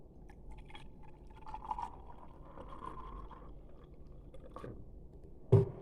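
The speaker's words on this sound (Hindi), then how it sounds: "ये पानी पा देना।" Water poured into a glass during a street magic trick, a quiet trickling pour against faint background room noise, ending with a sharp knock.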